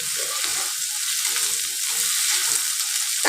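Okra sizzles in oil in a kadai wok, a steady, close frying hiss with soft stirring knocks underneath.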